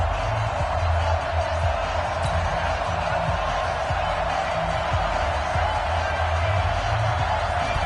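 Steady roar of a stadium crowd in a football video game before a Carolina Panthers versus New York Jets kickoff, a dense continuous wash of cheering with a low rumble underneath.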